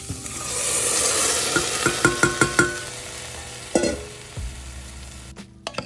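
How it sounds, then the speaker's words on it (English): Black beans being stirred in a hot pan, a soft sizzle beneath a quick series of distinct scraping clacks from the spoon, followed by a louder scrape and fading frying noise, close up. "I got my black beans added, stirring them around a little bit"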